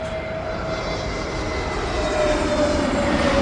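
A Tunis Air airliner coming in to land near the runway, its jet engines producing a loud, continuous roar with a steady whine that swells slightly toward the end.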